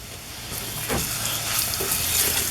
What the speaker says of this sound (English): we're going to add the garlic now